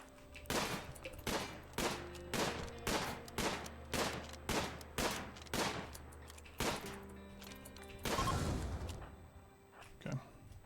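Turret fire in a video game, a steady run of about a dozen loud, evenly spaced heavy shots, followed by a bigger blast and a couple of trailing pops.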